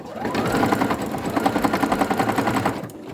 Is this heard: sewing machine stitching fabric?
yes